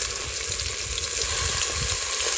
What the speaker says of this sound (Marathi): ते आता पूर्ण लालसर होईपर्यंत आपण त्या तेलामध्ये फ्राय करतलो